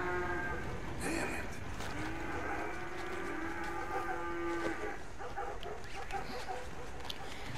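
Cattle moo in a cattle-rustling video game, long drawn-out lowing calls rising over a dense, busy game soundscape, with a dog-like whine and some faint voices mixed in.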